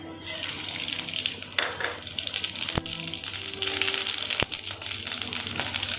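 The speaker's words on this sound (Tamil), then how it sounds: "இப்போ கடுகு போட்டுக்கலாம்" Mustard seeds spluttering in hot oil for a fish curry, a continuous hissing fry with a few sharp pops and crackles close by, with no talking.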